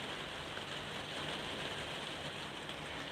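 Rain falling outdoors, a faint even hiss of steady drops with no distinct rhythm or voices, distant and unchanging throughout.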